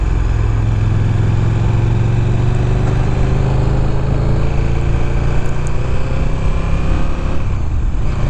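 A 2015 KTM 1290 Super Duke R being ridden, its engine droning steadily close up under constant wind roar, with no voices.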